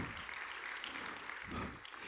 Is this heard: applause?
yes